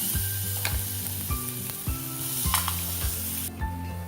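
Mashed potatoes fry in a small pan with about two tablespoons of oil and turmeric, a continuous close sizzle broken by periodic stirring scrapes, no talking.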